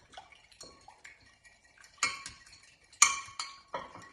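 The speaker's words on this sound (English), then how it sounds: "We're going to take an egg. We're going to absolutely mix the two together in a beautiful way." An egg being beaten into milk in a bowl with cutlery, giving sparse, sharp metallic clinks and taps of the utensil against the bowl, some louder strikes standing out from quieter scraping.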